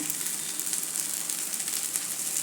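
Poha thalipeeth frying in oil on a pan, a steady close sizzle with a bright hiss that stays even throughout.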